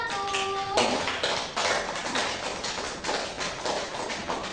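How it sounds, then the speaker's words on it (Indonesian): Classroom applause for a student group: a scattered patter of hand claps from a small group, close and steady for several seconds, opening over a brief tonal sound. "Beri aplaus untuk kelompok 1."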